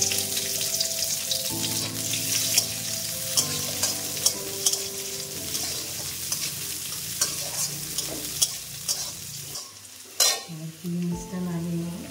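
Raisins fry in a pan with a steady crackling sizzle, punctuated by repeated spatula scrapes and taps, the sizzle dropping briefly near the end before resuming.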